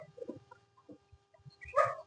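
Chickens cluck in short, soft bursts, with a louder, sharper squawk near the end.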